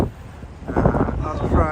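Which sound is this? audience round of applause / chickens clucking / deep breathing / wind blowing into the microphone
wind blowing into the microphone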